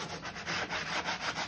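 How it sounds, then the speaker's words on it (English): Close-up rhythmic scraping of a sanding block rubbed back and forth over painted, waxed wood, with quick, even strokes. "I'm just gonna take my sanding block"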